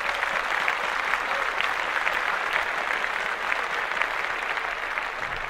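A few people clap on a sports podcast after mention of the Red Sox versus Dodgers World Series, steady close hand-clapping with individual claps audible throughout.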